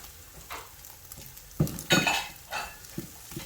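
Egg halwa stirring and frying in a pan over low heat: a quiet sizzle under several sharp scrapes and clinks of a utensil against the pan, loudest in the second half.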